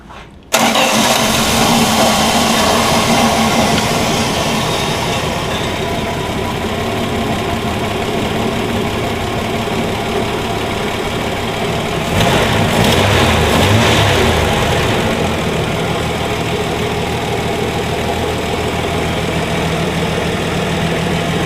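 A 1965 Plymouth Valiant with a Slant 6 engine cranks and fires up, then settles into a loud, steady, slightly rough idle that runs on close by for about twenty seconds.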